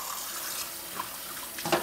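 Cold water runs steadily from an open kitchen sink tap, a close, even hiss and splash without pause.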